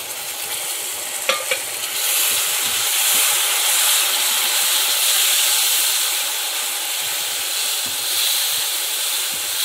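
Spices and tomato paste fry in oil in a pan for a Kerala-style chickpea curry, a continuous loud close sizzle and hiss with a few sharp stirring clinks near the start.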